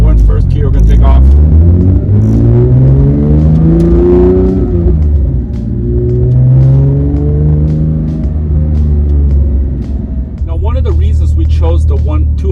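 A Porsche 992 GT3 fitted with Kline headers and 200-cell cats pulls away in first gear from inside the car, its exhaust revving up in deep rising sweeps through several gear changes, loud and close, with someone talking over it.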